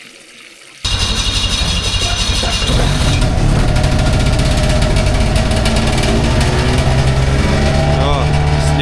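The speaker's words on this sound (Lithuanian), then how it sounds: "Jo, sniego motas užkurtas, varysim jau." A snowmobile on the frozen Curonian Lagoon starts with an abrupt burst and settles into a loud, steady, close engine roar. The pitch lifts slightly as it runs on alongside some background voices.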